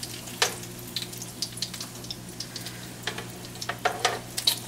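Taco stuffed egg rolls fry in hot grease with a steady crackling sizzle, punctuated by sharper pops and spits close up, and no voices.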